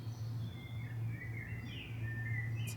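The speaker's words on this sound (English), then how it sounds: "You hear the birdsong." Faint birds chirp and warble in the distance over a steady low hum at a three-acre site with a pond, a few thin calls drifting through the quiet outdoor air.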